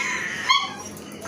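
One of two dogs gives a brief high whimper or yip around the middle, over a steady background hiss; no other distinct sounds.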